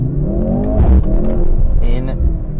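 A 2024 Mercedes-Benz C63 AMG launches hard off the line on a residential street, its engine roar climbing steadily in pitch through the pull. A brief exclamation rises over the loud, close engine note.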